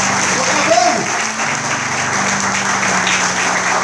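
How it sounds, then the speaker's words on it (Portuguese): Church congregation applauding during a sermon, a steady broad wash of clapping from many hands that fills the whole stretch at an even, moderately loud level. "Se você crê nisso, pode aplaudir o nome do Senhor Jesus."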